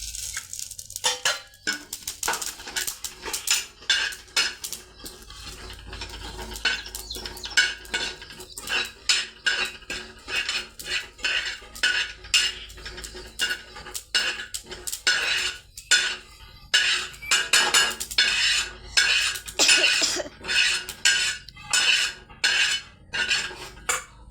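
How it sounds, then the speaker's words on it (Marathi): Grated coconut roasts in a metal pan, stirred with a spoon in rapid repeated scraping and clinking strokes, fairly close and rhythmic over a faint background hiss. "असं खोबरं भाजून बरं घेते"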